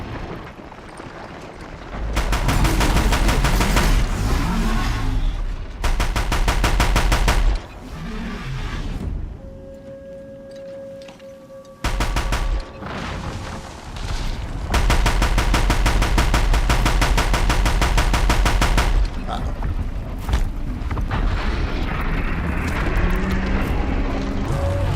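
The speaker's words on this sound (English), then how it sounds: "we got kind of like a Ratchet and Clank style, type of rocket launcher there" Rocket launcher blasting repeatedly in the Horizon video game, loud bursts of rapid fire in several long stretches separated by brief lulls, with in-game machine sounds between volleys.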